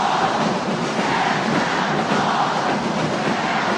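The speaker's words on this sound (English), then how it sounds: "listen to this crowd from both schools" A packed college basketball arena crowd from both La Salle and Ateneo roars in a continuous, dense wash of cheering and noise, loud and sustained with no distinct voices standing out.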